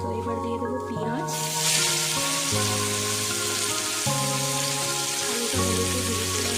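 Onion dropped into hot oil with potatoes already frying, with loud dense sizzling that builds and holds steady, under a repeating background music melody.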